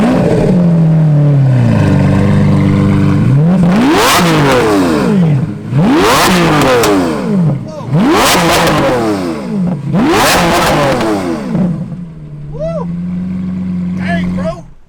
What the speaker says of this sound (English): we need to hear some revs and Evil's new Aventador because it's got the new exhaust